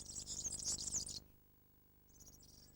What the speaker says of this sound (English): The frenzied song of the serin is such a familiar summer sound in the parks and gardens of continental Europe